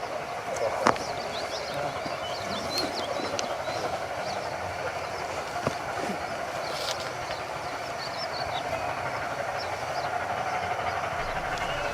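A train approaches on the Ravenglass & Eskdale Railway during a gala day, a steady rolling rumble with light clicks and a few sharp knocks, moderately near with outdoor ambience.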